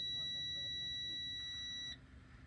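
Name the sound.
truck warning buzzer when key turned on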